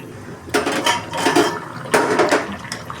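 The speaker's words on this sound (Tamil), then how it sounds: "இப்போ மூடி வச்சுருங்க" A metal lid settles onto a cooking pot of tomato rice with a couple of sharp clanks and rattles, separated by quieter scraping and handling noises.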